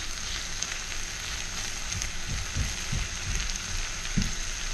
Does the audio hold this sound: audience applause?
no